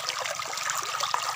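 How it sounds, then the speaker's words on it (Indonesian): Water flows close by in a steady trickling, burbling stream, continuous and fairly loud with small splashes throughout. "sedapnya airnya mengalir"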